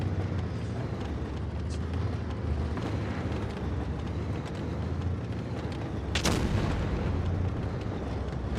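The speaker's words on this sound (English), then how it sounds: "suddenly there are tanks fighting each other" Tanks trade fire in a video game battle around a ruined castle: a dense, continuous roar of booming cannon shots and rumbling explosions, with a sharper, louder blast about two-thirds of the way through.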